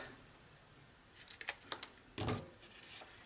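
A few short snips and rustles of scissors cutting a strip of yellow paper for a flower-themed pocket letter craft, close and quiet in a hushed room.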